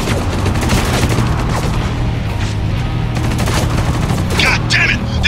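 Heavy turret gunfire in the video game Spec Ops: The Line, set on a bridge, keeps up a dense, loud clatter of shots and booms for the whole stretch, with shouted voices mixed in among the firing.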